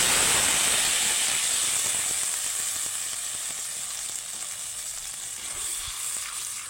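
Prepared spice paste sizzles hard in a hot pan for a vegetarian dish, a loud, dense hiss of frying close up that eases slightly over several seconds, with faint stirring underneath and no talking.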